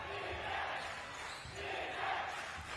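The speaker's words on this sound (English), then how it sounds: "Home crowd here in Kuala Lumpur, Malaysia, right behind their team." Home crowd at a professional basketball game in Kuala Lumpur, Malaysia, a faint, distant roar of cheering that swells and dips across the arena.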